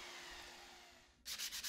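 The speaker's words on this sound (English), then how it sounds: "To get the rounded edges, I used an orbital sander and I sanded back until I hit a layout line" An orbital sander works the rounded edge of a wooden drawer pull, a steady, soft whirring rub that cuts in loud and close near the end after a quieter stretch of low hum.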